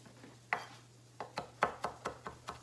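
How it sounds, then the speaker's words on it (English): A knife taps rapidly against a cutting board, mincing cilantro in a quick, uneven series of soft chops, close and quiet. "I'm mincing my cilantro up really fine"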